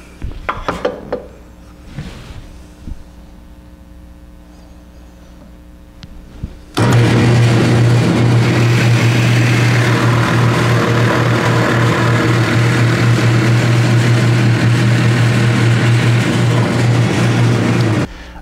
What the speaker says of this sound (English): I'm going to use a Forstner bit at the drill press